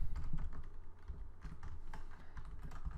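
Typing on a computer keyboard, a steady patter of close key clicks in small irregular bursts, clear and alone with no voices.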